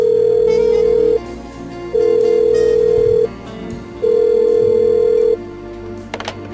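A telephone rings unanswered in the video game Blackwell Unbound: a steady electronic tone sounds in three long, evenly spaced bursts with short gaps between them, loud and close, with no talking.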